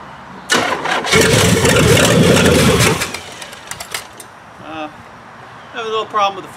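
A 400 small block V8 cranks and fires right up, roaring loudly for a couple of seconds before settling into a rough idle, with voices talking over the engine near the end.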